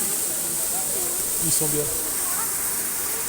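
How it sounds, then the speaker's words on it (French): Steady hissing rush of a waterfall at Beauval Zoo fills the background while a person speaks briefly over it. "En tout cas, ils ont des belles cascades."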